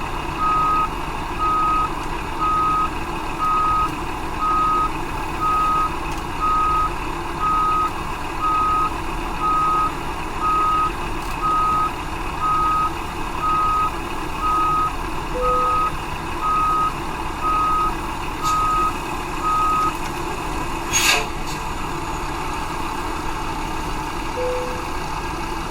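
A truck reversing in American Truck Simulator, its backup alarm beeping in a steady, evenly spaced rhythm for about twenty seconds over a low idling engine, then falling silent as a brief clunk sounds.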